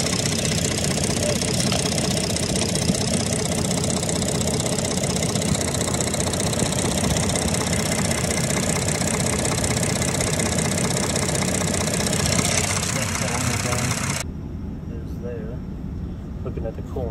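A Ford 3.5 EcoBoost engine idles steadily with a dense mechanical hum under a rushing fan or air-conditioning blower, near and loud, until the high hiss cuts off abruptly near the end.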